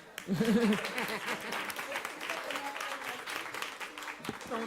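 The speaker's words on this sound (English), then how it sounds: "We can keep clapping for them." Audience applause fills a board meeting room, steady sustained clapping with a few whoops and voices mixed in, starting loud and continuing at an even level.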